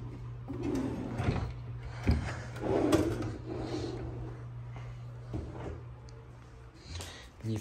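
A drawer in a Cancun ocean-view resort hotel room is opened and shut, producing several sharp knocks and sliding thumps over a steady low hum, with faint bird cooing in the background.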